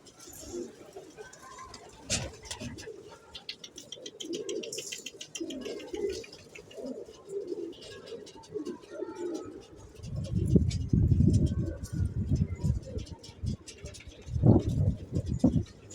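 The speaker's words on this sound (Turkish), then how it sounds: "Evet kuşlar yavaş yavaş konuyor. Hafiften de yem atıyoruz gelsinler diye." Pigeons on a rooftop loft coo and flutter while landing to feed as grain is scattered, with soft wingbeats and bird calls throughout and louder low bursts near the end as birds settle close by.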